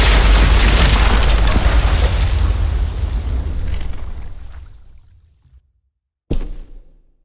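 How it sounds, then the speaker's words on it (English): A bomb explodes in The Walking Dead: The Final Season video game. A loud, close boom opens and rumbles on for several seconds before dying into silence, then a brief second burst follows. "Shit, the bomb!"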